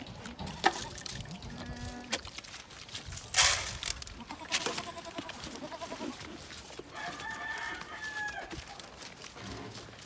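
Farm animals call out at feeding time on a small farm: goats bleat and chickens cluck, with a rooster crowing, in scattered overlapping bursts amid rustling and movement.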